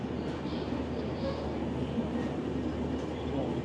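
Steady low rumble of a train interior in India as it starts moving, continuous rolling noise heard from inside a carriage, no distinct talk.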